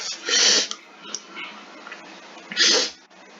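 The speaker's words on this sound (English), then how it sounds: "I had to sneeze bad." Two sharp, breathy sneezes burst out close to the microphone about two seconds apart, with quiet breathing between them.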